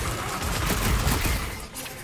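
Dense, sustained gunfire with rapid overlapping shots and booms from the Guardians of the Galaxy video game during a jungle battle, loud and continuous throughout.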